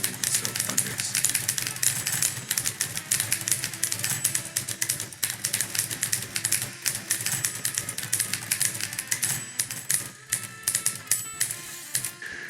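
Many typewriters clacking at once in a dense, continuous rattle, with occasional bell dings ringing out over the busy keystrokes.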